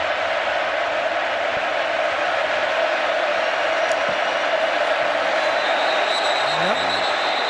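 A stadium crowd roars loudly and continuously in a dense wash of noise through a college football game between Auburn and Texas A&M, with a broadcast commentator's voice faintly under it.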